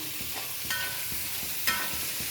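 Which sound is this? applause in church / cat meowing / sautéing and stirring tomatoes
sautéing and stirring tomatoes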